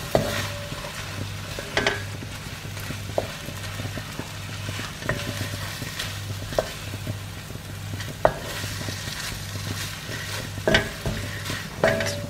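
A spoon scrapes and knocks through sauce in a pan, with irregular clacks and stirring strokes over a steady low hum and soft bubbling, close and moderately loud, with no talking.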